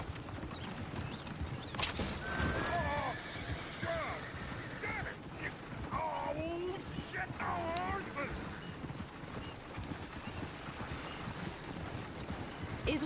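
Horse hooves clip-clop with creaking wagon mechanisms in a video game, a busy irregular patter under scattered voices, with brief whinny-like pitched calls rising and falling midway.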